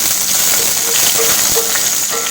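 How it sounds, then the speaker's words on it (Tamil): Red chilli, bay leaf and green chilli frying in hot oil for a mutton onion gravy, a loud close steady sizzle with faint crackles and light stirring. "இப்போ இதை எண்ணெயில ஃப்ரை பண்ணிக்கலாங்க."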